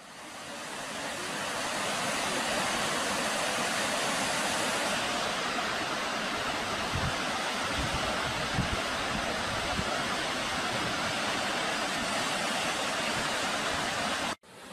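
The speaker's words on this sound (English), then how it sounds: "here's the other waterfall from the bottom vantage point" A waterfall seen from the bottom on a cold day roars as a loud, continuous broadband rush that fills the whole stretch. Nobody talks, and the roar cuts off abruptly near the end.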